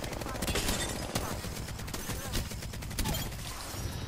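Dense gunfire from an Apex Legends firefight, a sustained rapid burst of shots running through the whole stretch, loud and close, with some speech mixed in.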